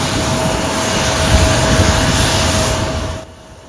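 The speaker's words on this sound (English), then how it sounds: "The plane, an E-170 jet, smoothly took off from the airport around 2:30 p.m." An Embraer E-170 jet takes off from an airport, a loud, steady broadband engine roar with a faint tonal whine, holding close and strong before dropping away abruptly near the end; no talking.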